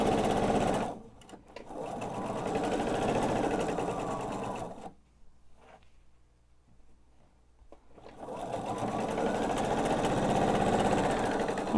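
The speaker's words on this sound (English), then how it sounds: "I am just going from area that I've sewn to area that I've sewn, nice and slow" A sewing machine stitches quilt top seams at a slow pace, a close, steady whirring hum that stops for a few seconds in the middle and then starts up again, with no voices.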